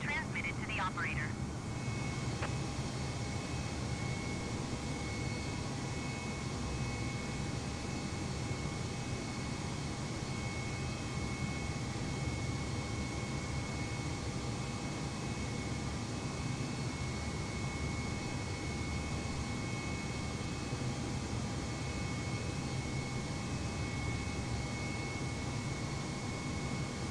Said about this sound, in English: Air Canada 1123 requesting pushback tug to steer the aircraft to the right